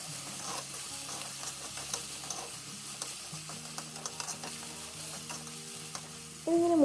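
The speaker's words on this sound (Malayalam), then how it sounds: "ചെറിയ ഉള്ളി ഇട്ടു, പച്ചമുളക് ഇട്ടു, ഇപ്പം നമ്മുടെ കറിവേപ്പില ഇട്ടു. ഇനി ഇത് നന്നായിട്ട് ഇതൊന്ന് മൂപ്പിച്ചെടുക്കാം" Shallots, green chillies and curry leaves fry in oil in a pan for a Malabar fish curry, giving a continuous close sizzle with scattered crackles and a faint tonal hum, then a louder sound at the very end.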